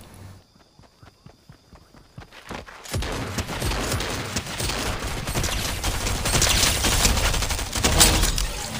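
Gunfire in the Fortnite video game starts with a run of sharp, evenly spaced clicks, then gives way to loud, dense shooting that continues to the end.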